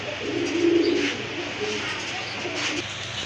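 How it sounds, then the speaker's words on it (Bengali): Healthy pigeons at a farm coo in low, burbling calls close by over a busy ambient hum, the strongest coo early on and softer ones following. "এই যে দেখেন কবুতরগুলো খুবই হেলদি"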